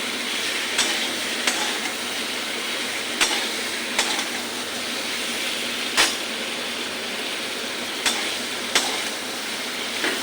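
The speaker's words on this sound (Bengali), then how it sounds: "সবজির সঙ্গে মশলাটা ভালো করে মিশে নিই" Fried potato and pointed gourd stirred through spice paste in an oily pan, a steady sizzle punctuated by irregular sharp clicks of the spoon against the pan.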